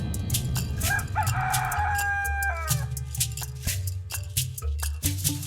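Chickens cluck and a rooster crows inside a chicken house, the long crow rising and falling over dense, busy clucking and scratching, close and loud throughout.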